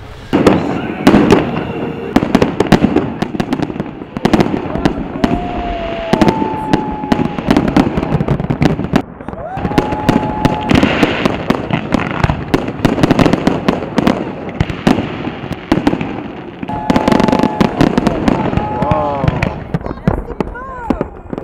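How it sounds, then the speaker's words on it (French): A fireworks display fired from three sites at a mountain ski resort in summer pops and crackles continuously, with dense bursts, rising whistles and rapid booming reports building toward a shared final bouquet, loud and close throughout. "les feux d'artifice se répondaient et avec un bouquet final en commun"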